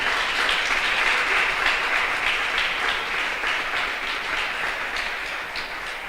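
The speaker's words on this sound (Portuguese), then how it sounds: "você pode dar uma salva de palmas ao nosso Senhor Jesus" Steady congregational applause at a church seminar, dense and fairly loud from start to finish with a slight fade near the end, and no talking over it.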